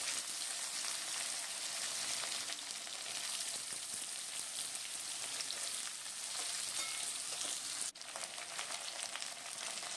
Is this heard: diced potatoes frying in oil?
yes